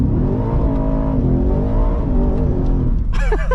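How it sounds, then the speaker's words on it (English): A 700-horsepower 2023 Ford F-150 Raptor R V8 does a third-gear burnout, a loud, close, sustained engine roar with wavering pitch. A brief voice-like sound rises over it near the end. "A 3rd gear burnout in a 700 horsepower truck."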